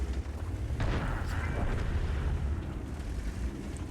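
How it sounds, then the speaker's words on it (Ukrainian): A tank's cannon fires in World of Tanks while playing an M48A2 Räumpanzer: a deep booming blast near the start rolls into a low, rumbling echo that lingers under the battle's background noise. "Стріляємо ще раз, побачили, полетіло лівіше."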